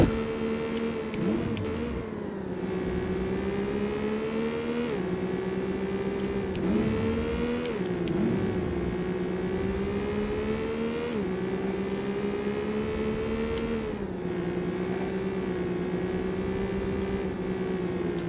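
Porsche race cars in the PlayStation game Need for Speed: Porsche 2000, a Classic Class tournament race, with a steady engine drone that climbs and drops as gears shift, held at an even level throughout with no talking.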